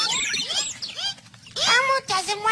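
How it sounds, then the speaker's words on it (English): Small birds chirp and tweet in quick bright bursts, loud and close, in a cartoon room with a TV. The chirps come in repeated flurries with brief pauses between them. "Oh, quiet, birds, so we can watch."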